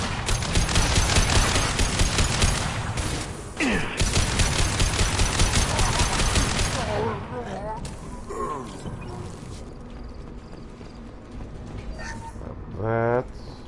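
Sustained rapid gunfire in the video game Mass Effect 2, loud bursts through the first half, then quieter scattered game sounds, with a voice talking over parts of it.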